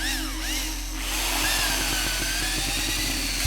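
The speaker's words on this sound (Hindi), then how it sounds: "ऊपर ड्रिल करो।" A power drill bores into a wall to mount a board, a loud, close, steady motor whine with a gritty chatter as the bit bites in, over roughly three seconds.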